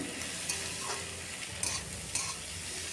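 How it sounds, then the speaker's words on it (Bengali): Grated coconut frying in a pan for a Kerala-style fish dish gives a soft, steady sizzle broken by a few light scrapes of a spoon stirring, close and fairly quiet, with no speech. "নারকেল কুড়াটা দিয়ে আর একটু ভাজা ভাজা করে নিচ্ছি।"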